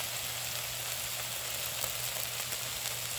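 A pinch of asafetida sizzling in a little hot oil while a vegan Indian lentil dal soup is cooked, giving a steady, even frying hiss with no voices.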